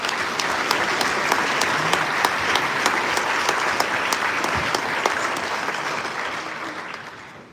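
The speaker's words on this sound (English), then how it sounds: "Let's give the applause to the Holy Father." A large audience at the FAO 80th anniversary and World Food Day event applauds the Pope, loud continuous clapping in a big hall with a few sharp individual claps standing out before it fades.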